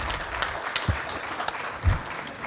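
Audience applause at an inauguration ceremony as a guest is called to the stage, a soft steady patter of clapping with a couple of louder thumps, heard at some distance.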